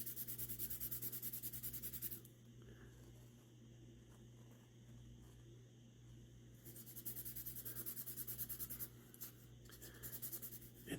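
Scotch-Brite pad rubbed over a camp knife blade, faint scratchy strokes in bursts with a quieter gap between them, close and alone.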